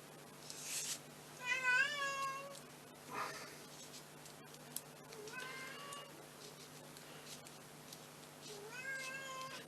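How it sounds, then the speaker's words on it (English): A cat meows and complains from outside a closed door, several drawn-out, wavering cries in bursts with pauses between, muffled and moderately distant in a quiet room. "it's my cat playing pop, because I've closed him out of my little room here and he's complaining because he can't get in here"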